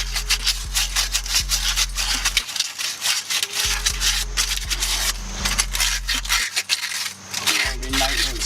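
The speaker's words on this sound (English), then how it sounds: "I have some sanding paper. Just try smoothing it out" Sandpaper scrubs a vehicle wheel hub surface during a 2016 Nissan Maxima hub and bearing replacement, loud close-up rasping strokes repeating in quick rhythmic bursts with a low hum underneath.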